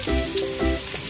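Garlic frying in oil in a kawali, a brief close sizzle with crackling pops and no voices.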